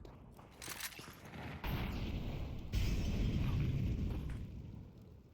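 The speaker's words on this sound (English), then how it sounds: "but that nade, oh my goodness, Bibian." A grenade detonates in Counter-Strike on the Dust2 map, a muffled boom with rumbling debris amid continuous game noise, fairly faint and without talk.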